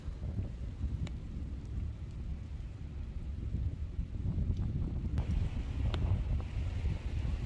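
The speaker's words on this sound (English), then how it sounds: "I'm out of the wind and rain." Wind gusting and rain on the Normandy coast at Arromaches, heard as a steady low rumbling roar with buffeting against the microphone and occasional faint ticks, constant throughout with no voices.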